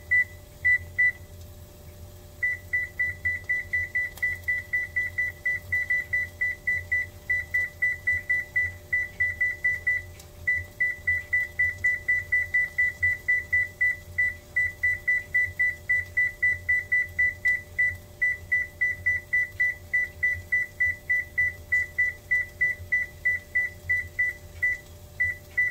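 A microwave oven sounds a long series of rapid, regular electronic beeps as its timer is set while a casserole is being made, the evenly spaced pulses running almost without pause over a steady low hum.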